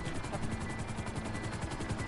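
Helicopter rotor chop from a GTA game, a steady rhythmic low thumping with continuous engine whine, held at an even loudness throughout.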